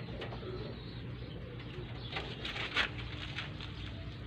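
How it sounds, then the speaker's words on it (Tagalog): Pigeons coo softly in a loft, low murmuring calls under steady background hum, with light pattering and brief wing or movement sounds nearby. "So tara, pakain natin mga kalapatids."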